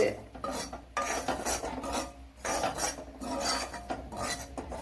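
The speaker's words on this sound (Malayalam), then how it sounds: "രണ്ട് ടേബിൾ സ്പൂൺ മുളക് പൊടി ചേർത്ത് കൊടുക്കുക. അതും കൂടെ ചേർത്ത് കൊടുത്തൊന്ന് മൂപ്പിച്ചെടുക്കണം." Chili powder being stirred and toasted in a hot pan after the flame is turned off, a spoon scraping and rubbing against the pan in repeated strokes, close and alone with no talk.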